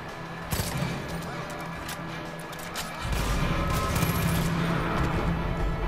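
Gunfire in the open-world shooter Far Cry 5 during an outpost fight, a scattering of sharp distant shots and bursts with a heavier rumble after a few seconds, faint under the game's ambient noise.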